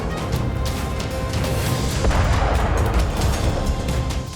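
Russian artillery fire rumbles as a dense, continuous low roar with overlapping booms and crashes, loud and sustained throughout without any talk.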